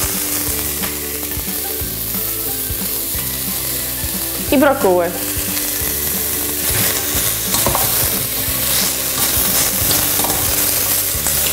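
Steady sizzling of mushrooms and peppers frying in a pot for beef stroganoff, with stirring and scraping clatter throughout and a brief spoken phrase partway through.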